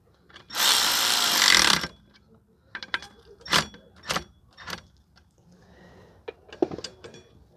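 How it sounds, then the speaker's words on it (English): A bolt is tightened on a 2005 Toyota Corolla rear brake backing plate: a short burst from a power tool, then scattered clanks and metallic tool knocks, close and intermittent. "So tighten up the bolt."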